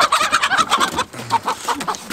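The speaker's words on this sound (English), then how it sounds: "So when you guys are catching chickens," Chickens being caught by hand cluck and squawk in rapid, agitated bursts, loud and close, with no talking.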